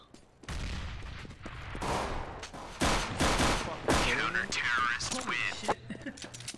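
Rapid bursts of gunfire in a first-person shooter match, with a bomb planted on site, crackling through most of the stretch under a player's excited speech.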